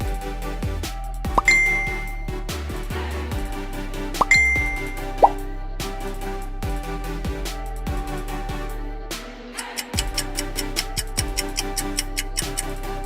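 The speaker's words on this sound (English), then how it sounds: "That was Messenger." A bright jingle of tuned plinks and dings with plopping bubble-like tones repeats over several seconds, followed by a quick rhythmic run of clicky tones, played loud and alone as a Facebook Messenger notification logo sound.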